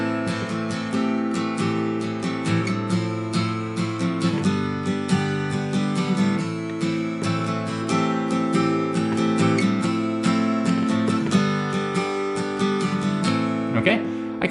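Acoustic guitar strums the intro of a song in a steady, even strumming pattern, close and clear, with no talking over it.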